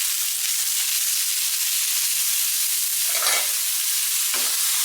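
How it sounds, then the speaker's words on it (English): Shredded rice is stir-fried with onion, ginger, garlic and lemongrass, giving a steady loud sizzle and hiss throughout, with a couple of brief scraping stirs near the end and no talk. "Stir fry evenly"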